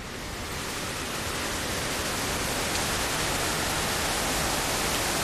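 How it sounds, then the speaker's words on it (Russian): Heavy rain falls in a steady, dense hiss that stays loud and unbroken throughout, with no voices. "Да, это шум дождя. Мне нравится шум дождя."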